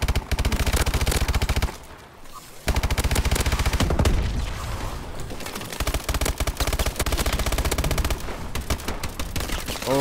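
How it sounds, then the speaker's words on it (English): Goliath mechs firing in Call of Duty: Advanced Warfare last-man-standing match, dense loud bursts of rapid automatic gunfire that run almost continuously, pausing briefly before resuming with steady heavy shots. "Shoot, the fucking Goliaths are shooting away."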